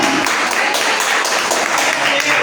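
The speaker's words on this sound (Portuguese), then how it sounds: "Dá uma salva de palmas, porque você é fiel" Church congregation clapping steadily during a live worship service, a loud, rhythmic round of applause throughout with voices mixed in.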